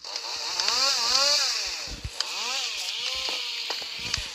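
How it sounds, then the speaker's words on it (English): A chainsaw wielded by the Guardian in the Slendytubbies Minecraft mod revs in repeated rising and falling whines, several swells in a row with a buzzing engine tone, heard alone without speech. "this is the Guardian with the chainsaw"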